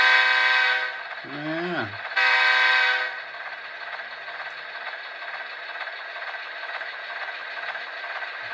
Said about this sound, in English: Try some whistle, horn action.